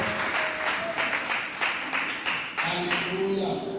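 Church congregation clapping together in rhythm to acclaim God at a praise and worship service; rapid, even handclaps go on throughout, with voices and a sustained tone in the background.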